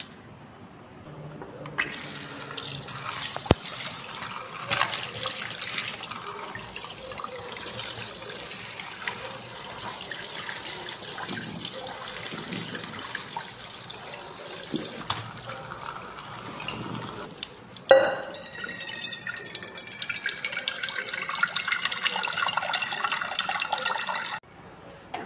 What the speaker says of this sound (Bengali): এরপর আমি আলুগুলোকে ভালো করে ধুয়ে নেওয়ার পর